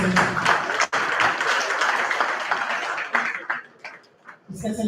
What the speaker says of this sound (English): can we please give another energetic applause to His Excellency?